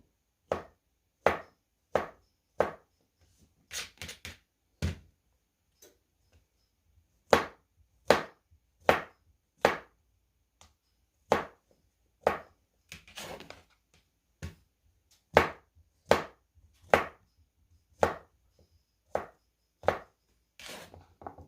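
Zucchini sliced on a cutting board with a knife, about twenty sharp, distinct chops spaced roughly a second apart, close and crisp against a quiet background with no voices.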